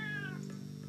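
A studio cat gives a single short meow, close and fairly clear, lasting under a second with no talking.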